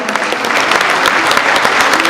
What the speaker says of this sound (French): Bravo Aurore, on peut l'applaudir très fort